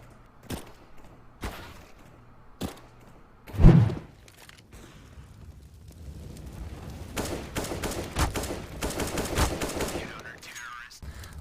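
CZ pistol fire in CS:GO, a handful of sharp punchy shots spaced apart, one heavier thump midway, then a denser burst of rapid gunfire with background game noise.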